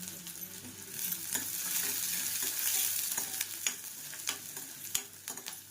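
Green chillies sauté in hot oil over a tempering of mustard and cumin seeds with onion, a steady close sizzle with scattered sharp clicks and scrapes of a spoon stirring the pan.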